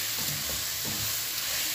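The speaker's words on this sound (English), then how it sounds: "I'm mixing this raw mango over here. Mix them well on a slow flame." Grated raw mango is stirred in a pan over a slow flame, giving a soft steady sizzle with a few light scraping stirs, close and alone.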